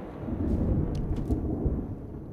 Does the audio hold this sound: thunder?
yes